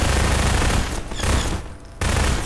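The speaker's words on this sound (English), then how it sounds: "he's also using a machine gun" Sustained machine-gun fire in Half-Life 2, a dense, loud rattling burst that briefly drops out twice before resuming at full intensity, with no voices over it.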